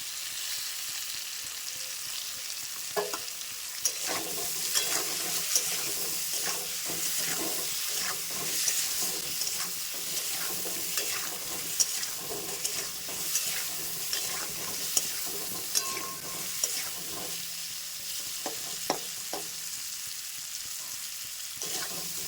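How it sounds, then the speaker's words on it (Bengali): Potato pieces fry in hot oil in a pan for a Bengali egg and potato curry. A constant sizzle runs throughout, broken by frequent clicks and scrapes of stirring, with no talking. "আলুটা ভাজা হয়ে গেছে তুলে নেবো"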